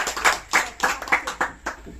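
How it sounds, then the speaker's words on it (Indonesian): A classroom group claps its thanks in a short burst of about eight distinct, crisp hand claps in a quick, uneven rhythm, close by. "tepuk tangan untuk terima kasih"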